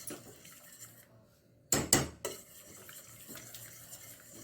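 Pasta being stirred in a metal pot while cooking a home-style Tamil pasta dish, with a few sharp clinks of the utensil against the pot in quick succession amid soft kitchen background noise.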